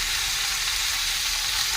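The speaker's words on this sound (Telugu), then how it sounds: "ఇట్లా వేగుతున్నాయి కదండి" Eggplant pieces fry in hot oil for a vegetable gravy curry, a steady, dense sizzle that holds close and even throughout with no voices.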